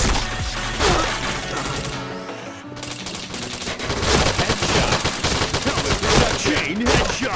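Rapid Ultimax machine gun fire in a video game, dense crackling bursts running almost the whole time with brief gaps, loud and close, mixed with other game effects.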